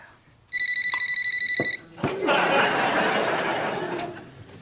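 A telephone rings once in a French-language sitcom scene, a short bright electronic trill that stops abruptly, followed by laughter and a murmur of voices.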